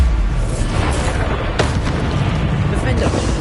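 Bombarda explosion spell blasts in the Hogwarts Legacy game, heavy booming bursts with a sharp crack near the middle, loud over continuous combat noise.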